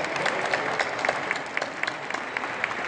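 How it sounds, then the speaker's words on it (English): Audience at an art auction applauding, a steady round of many hands clapping with individual sharp claps standing out, close and lively. "Give them one more round of applause before we begin."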